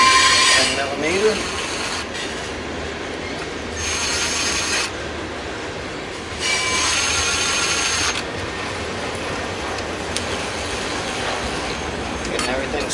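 A ratchet wrench tightening 10 millimeter engine bolts on a race mower build: repeated bursts of close, fast mechanical clicking that alternate with quieter stretches.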